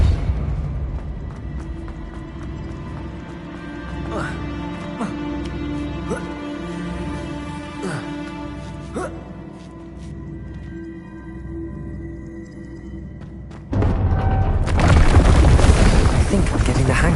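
A spell effect from the Hogwarts Legacy video game comes after a long stretch of low rumbling game ambience with faint ticking hits. Near the end it breaks into a loud, sudden blast with a sustained crashing roar.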